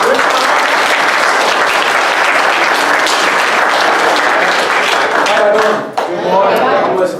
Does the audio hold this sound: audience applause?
yes